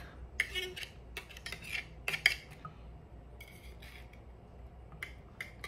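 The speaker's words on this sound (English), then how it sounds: "I'm gonna just take this knife and get all the trimmings off." A metal knife scrapes onion trimmings off a board in short, irregular scratchy strokes with light clinks, fairly close and alone.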